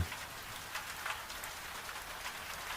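Steady rain falling outside a Highlands farmhouse kitchen, a soft continuous patter of drops with no voices.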